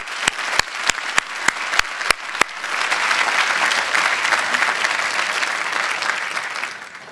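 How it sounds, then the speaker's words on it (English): Graduation ceremony audience bursts into applause, beginning with a few sharp evenly spaced claps that swell into dense, sustained clapping from a large crowd in a hall. "So please give a round of applause."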